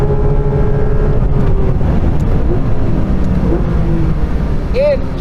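Engine of a modified Porsche GT3 RS on a race track, a loud, steady drone that holds through the whole stretch with shifting pitch as the car is driven, and a person talking over it.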